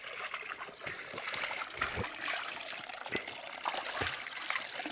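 Water trickles steadily from a village fountain on a warm June afternoon, a continuous splashing stream close by with occasional louder splatters and no speech.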